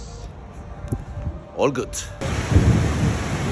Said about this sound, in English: It's thundering at the moment, so it seems like it will be a wet race.